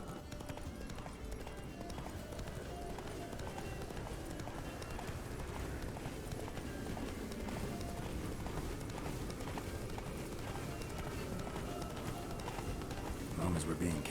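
The horse Roach galloping in the video game The Witcher 3: steady, rhythmic hoofbeats pounding throughout, with voices talking over the running hooves.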